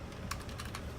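Brisk keystrokes on a computer keyboard during HR/payroll data entry, a handful of quick clicks in an uneven rhythm, close and fairly quiet with a low background hum and no talking.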